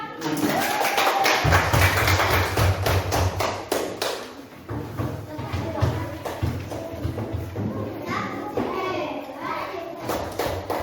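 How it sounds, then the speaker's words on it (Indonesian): Scattered clapping and tapping from a group of primary school children in a classroom, uneven and busy, mixed with kids' chatter and thumps around the room. "tepuk tangan untuk kelompok."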